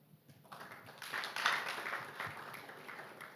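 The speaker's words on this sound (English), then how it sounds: "A very big round of applause for Nwali and his team of panelists" A conference audience applauds the panelists of a session on education in Uganda, with soft, even clapping that swells after a quiet start and carries on steadily at a moderate distance.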